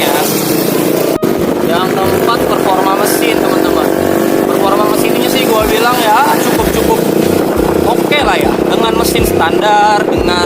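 A Yamaha XMAX 250 cc automatic scooter engine hums and revs while riding, a steady close drone with rising and falling pitch as the throttle changes, under continuous male speech and wind buffeting.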